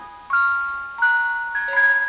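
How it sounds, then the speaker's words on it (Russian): A retro vintage wind-up music box chimes a few bright, sparse plucked-comb notes, close and fairly loud, ringing out with no talk over them. "я ставила эту шкатулку и заводила"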